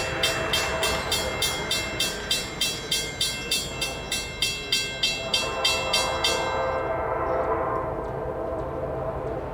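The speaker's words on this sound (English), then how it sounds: "This is E211, doing all of track speed west, with yet another Huntington SD70 Mac in the lead." An empty coal train led by an SD70MAC locomotive rolls past at track speed, with a rapid regular clatter of wheels over rail joints that stops abruptly, then a fading rumble.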